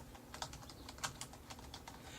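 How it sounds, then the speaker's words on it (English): Several light clicks of a computer keyboard being typed on, including a few taps of the spacebar, fairly quiet and evenly spaced with no voices. "I'm actually going to center this just a little bit by hitting the spacebar a few times"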